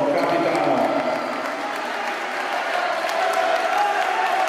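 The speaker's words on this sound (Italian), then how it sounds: "un grande applauso al nostro capitano." A sports crowd at an Ortona versus Rimini match applauds its team captain, a steady dense wash of clapping filling the arena throughout.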